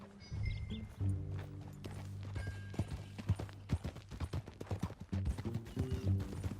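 Horse hooves clip-clop in a steady trotting rhythm in the video game Red Dead Redemption 2, fairly close, with low music tones swelling underneath and faint clattering.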